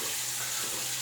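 Water runs steadily from a tap to rinse during a double-edged razor shave, a continuous close hiss with no pauses.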